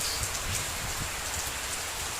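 Steady rain falling during the rainy season in Cambodia, a dense continuous patter of drops on surfaces close by, with no voices.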